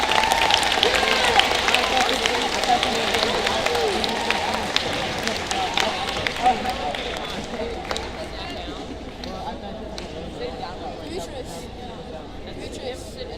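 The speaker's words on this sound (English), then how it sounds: "let's give them a round of applause." A school audience gives a round of applause, a broad wash of clapping that starts full and gradually thins and fades, with voices mixed in.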